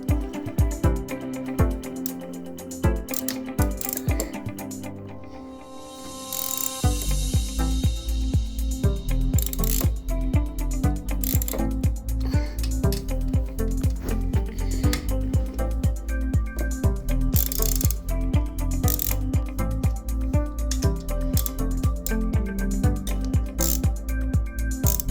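Ratchet wrench loosening the four cylinder head bolts of a 110cc/125cc dirt bike or quad engine in a star pattern, a steady run of rapid close clicks through most of the clip after a short quieter start.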